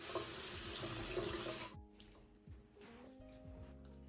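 Tap water runs steadily and fairly loud for under two seconds while a face is rinsed during a post-acne morning skincare routine, then shuts off, leaving a quiet room with faint movement.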